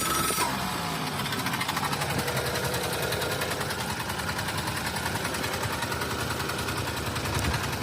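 A Suzuki Carry dump truck engine idles roughly with a slight exhaust leak, giving a continuous rapid chugging, ticking rattle that stays loud and close throughout.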